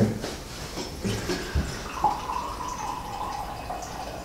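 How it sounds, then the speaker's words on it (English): Twisted Tea being poured from a can into glasses, a soft continuous liquid stream with light splashing and drips, fairly quiet and close, with no talking over it. "I'll try to pour these out evenly."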